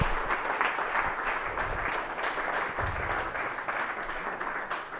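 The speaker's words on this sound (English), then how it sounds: "let's give our speakers a round of applause" An audience at a public education forum applauds the speakers, a steady wash of many hands clapping at moderate distance, with no one talking over it.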